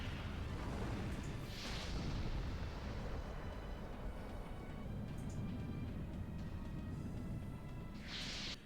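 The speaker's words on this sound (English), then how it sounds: "spam Dragoon magic like Final Burst and Flame Shot" Dragoon magic attacks such as Final Burst and Flame Shot from the Legend of Dragoon video game: a continuous deep rumbling roar with a few brighter bursts flaring on top, loud and sustained throughout.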